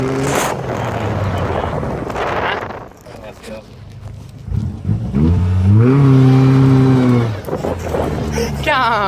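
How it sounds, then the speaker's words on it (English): Engine of a newly bought car with chopped mufflers revs up loudly, rising and falling in pitch through a couple of throttle bursts, with wind buffeting and people talking over it. "my new car's a goer. Sounds fucking better than Reese's car"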